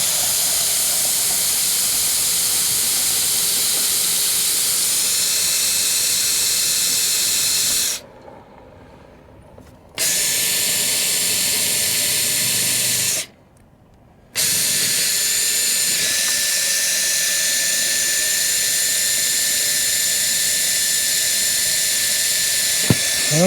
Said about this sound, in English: I just drilled a hole in my RV.